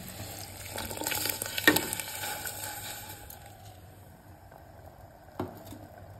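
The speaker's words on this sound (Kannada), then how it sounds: "ಈಗ ನೋಡ್ರಿ ಇದು ನೀರು ಕುದಿಯಾಕತೈತಿ" Water comes to a boil in a pot for hotel-style mushroom pulao, giving a steady soft bubbling and sizzling hiss with an occasional louder splash or stir, fairly quiet and close.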